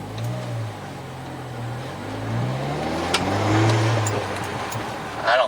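Mini Countryman S R60 with a straight pipe exhaust, engine revving up and down in a few swelling pulls, moderately loud and close, ending in a brief sharper crackle.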